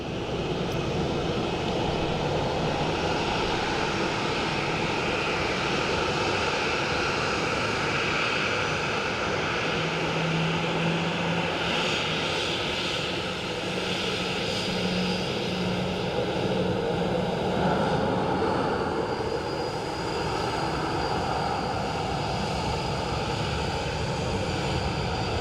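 A Ryanair airliner at Dublin Airport produces a continuous, loud engine roar that holds steady and broadband throughout, with a faint rising whine partway through and no talking.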